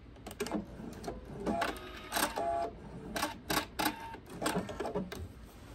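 A sewing machine stitches a quilt binding in short bursts of fast, mechanical whirring, punctuated by clicks and the snip of an automatic thread cutter, close and fairly loud with no talking.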